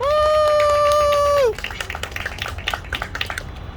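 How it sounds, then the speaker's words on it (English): Crowd at a rally for Palestine in Newark breaks into applause, a dense spatter of clapping that follows a loud sustained tone and carries on to the end. "you all deserve a round of applause"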